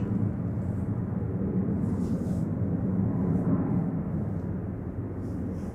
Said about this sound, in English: That's Ryanair 3204 heading off to Rome Ciampiano.